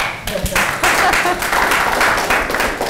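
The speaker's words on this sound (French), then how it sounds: "M'applaudissez pour moi." A gathered audience claps in a lively burst of applause lasting a few seconds, close and fairly loud, with a faint murmur of voices underneath.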